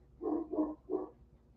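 Three dog barks in quick succession, fairly close and clear, from one of roughly twenty dogs kept with puppies, with no talking over them.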